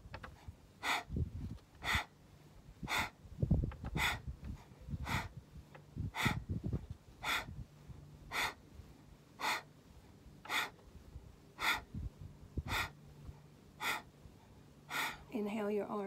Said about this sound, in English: stick the tongue out and down and continue with breath of fire